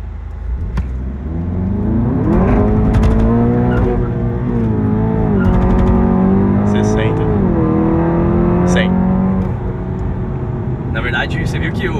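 A stage 2 tuned Audi TT accelerates hard in a 0 to 100 run, its engine climbing through several gear changes with rising, falling whines, loud and close, as someone talks over it.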